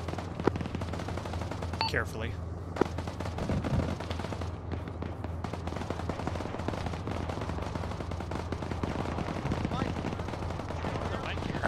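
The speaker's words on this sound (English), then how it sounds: "investigate the gunfire southeast" Gunfire from a military video game rattles in the distance as scattered sharp reports over a constant low rumble of game ambience, with occasional brief talk.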